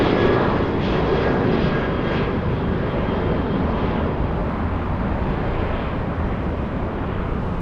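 A large airplane taxis at LAX, giving a steady, broad engine rumble and roar from a moderate distance. It holds a constant level for several seconds with no talk.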